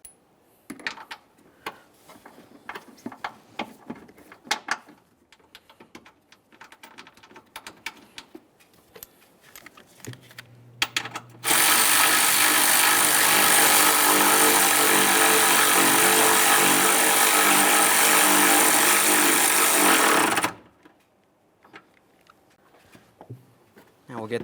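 Power tool driving a radiator mounting bolt on a 2015-2020 Ford F-150 3.5L V6, one loud sustained burst of about nine seconds, preceded and followed by quieter clicks and handling noises up close.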